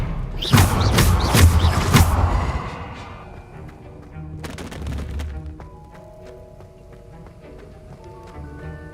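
Combat spell casting in Hogwarts Legacy, with a burst of sharp, punchy blasts in quick succession, a later impact thump, then quieter ringing effects and tones trailing off.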